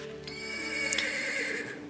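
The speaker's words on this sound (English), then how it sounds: "It makes the horses nervous and you pull back on their bridles." Horses in the video game Ash of Gods neigh and whinny loudly and nearby, a sustained nervous call with faint hoof clatter underneath.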